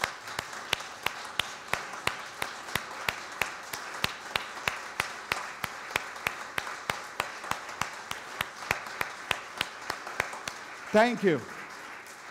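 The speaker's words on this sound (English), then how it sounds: "let us please stand and give them a hand of applause" A church congregation, standing, gives a steady, fairly quiet round of regular clapping that keeps an even rhythm. A brief spoken thanks comes near the end.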